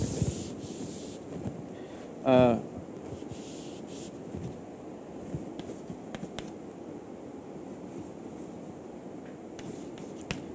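Rubbing on a board during a lecture, heard as a soft, continuous scrubbing texture that runs through the stretch, with one brief louder scrape near the start; no speech.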